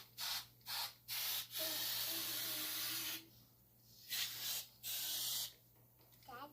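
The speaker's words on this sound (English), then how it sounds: "all we do here is we just put a tiny bit of air in" Air hisses in short bursts into the rear inner tube of a CRF100 dirt bike, several quick puffs followed by longer steady hissing, close and fairly quiet.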